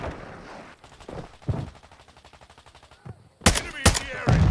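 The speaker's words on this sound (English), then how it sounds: "Taking effective fire!" Call of Duty match gunfire: a rapid run of automatic shots rattles through the middle, then several loud sharp bursts near the end, with game voice lines and chatter mixed in.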